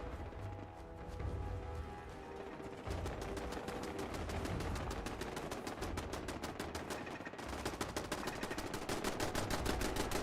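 Sustained machine-gun fire, rapid evenly spaced shots rattling on for about ten seconds, growing denser and sharper partway through, with no talk over it.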